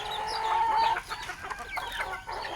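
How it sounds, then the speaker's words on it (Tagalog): Backyard chickens clucking at morning feeding time, giving a cluster of short, overlapping clucks and squawks at close to middle distance, with no talking. "papakain naman tayo ng mga alaga nating manok."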